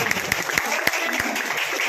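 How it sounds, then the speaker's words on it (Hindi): Applause after a Bhojpuri song recording session, a dense patter of clapping with a few sharp louder claps, steady and fairly close throughout. "ताली तो बनता है ये"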